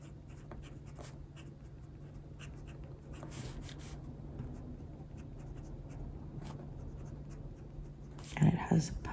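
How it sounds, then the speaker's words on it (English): A mid-size Esterbrook Estie fountain pen writes on paper, giving faint, scratchy nib strokes in short bursts over a steady low hum, with a louder rustle near the end. "Well, I'll write up here first."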